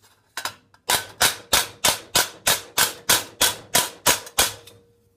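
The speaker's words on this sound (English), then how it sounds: "So as much hammering as it takes." Steady hammer blows ring out while a metal stake is forged, about a dozen sharp, evenly spaced strikes close up, each with a bright metallic ring that decays quickly, after a couple of lighter taps at the start.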